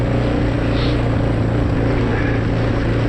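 A quad bike engine drives uphill over rough, lumpy grassy ground, a loud, steady, close droning hum that holds constant throughout with no talking.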